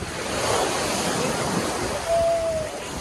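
Waves surge and break on a Mumbai beach, a steady broadband wash close by with a louder swell near the end, wind noise mixed in.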